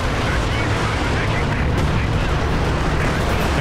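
A Company of Heroes 2 artillery barrage rumbles as a heavy, sustained wall of booming impacts and low roar, loud and unbroken throughout.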